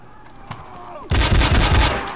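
Gunfire in the video game Garry's Mod Gun Game: a faint shot and a quiet sweep early on, then a loud burst of close, rapid shots filling the last second.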